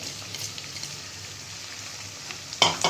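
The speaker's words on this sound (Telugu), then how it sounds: "ఇప్పుడు మనం గోంగూర వేసుకోవాలి. ఇందులో నేను తెల్ల గోంగూర వేసుకుంటున్నానండి." Gongura (sorrel) leaves hit hot oil in a pan and sizzle steadily at close range, a continuous hissing fry that swells sharply near the end as more leaves go in, with no talk.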